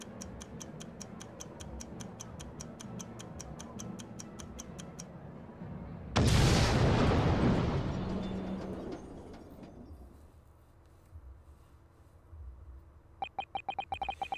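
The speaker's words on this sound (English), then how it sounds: "the enormous explosion that ripped through the experimentation stage at the Great Exhibition" A steady mechanical ticking gives way to a sudden loud blast on the experimentation stage at the Great Exhibition in the Great Ace Attorney 2 video game, roaring and then fading over several seconds before the ticking returns.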